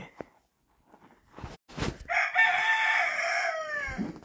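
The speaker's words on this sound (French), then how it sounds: "Bonjour, monsieur le coq." A rooster crows once, a long, loud, sustained cock-a-doodle-doo close by, preceded by a few faint rustles and clucks and ending in a soft thump.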